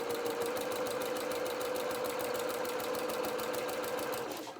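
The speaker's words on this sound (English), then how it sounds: "the walking foot does make a lot more noise than an ordinary foot" A sewing machine fitted with a walking foot stitches through fabric with a fast, even mechanical chatter and a steady motor whine, running close and loud before winding down at the end.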